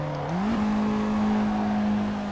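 A racing game car tossed side to side in a drift, engine pitch climbing quickly early on and then holding a steady loud drone, close and uninterrupted by voices.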